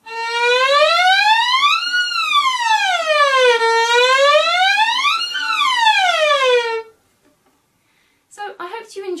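A violin glides smoothly up and down in long wailing sweeps, imitating a siren, for several seconds before stopping; a brief voice follows.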